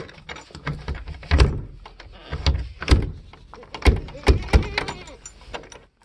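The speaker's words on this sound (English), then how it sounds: "They'll push on the door until it opens." Goats or sheep shove and bump against a shed door at a livestock water station, giving a series of irregular thumps and rattles close by, with occasional bleats among them.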